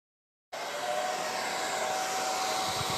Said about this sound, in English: my hairdryer will not reach that far